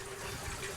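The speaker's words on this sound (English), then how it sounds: "I need to have the water running" Water runs steadily through a hydroponic strawberry system, a continuous close, even hiss and gurgle of flowing water with no break.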